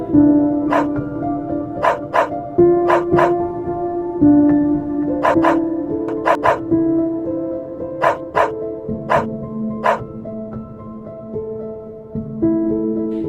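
A dog barks repeatedly in short sharp bursts, some in quick pairs, over a sustained low musical drone.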